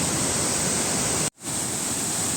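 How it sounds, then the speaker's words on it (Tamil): A waterfall in a natural forest setting gives a loud, steady broadband roar throughout, briefly cut by a sharp momentary dropout before returning at full strength. "இருந்தாலும் இந்த அருவி சத்தத்தை விட்டுட்டு போகிறதுக்கு மனசே வரல மக்களே."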